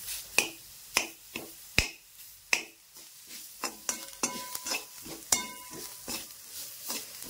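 Spices roasting and being stirred in a pan for Khandeshi-style brinjal bharit, with a spoon scraping and clicking against the pan in a steady run of sharp taps over a light sizzle.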